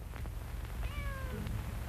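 A single cat meows once, a short, fairly faint rising-and-falling cry over a low background rumble, with no voices present.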